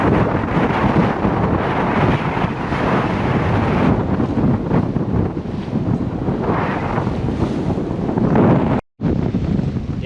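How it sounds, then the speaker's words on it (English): Strong wind, around 30 knots, buffets the microphone aboard a sailboat beating upriver on the Saint Lawrence River, a loud roaring rumble with water wash beneath, briefly cutting out near the end. "the freaking wind is blowing right downriver, the wrong way"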